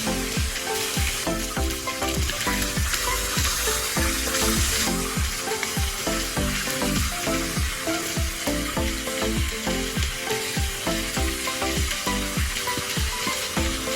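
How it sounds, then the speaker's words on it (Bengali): Chicken pieces fry in hot oil, giving a loud, continuous sizzle with crackling pops and rhythmic clinks of a spatula stirring throughout. "মুরগির পিসগুলো আমি ভেজে নিব"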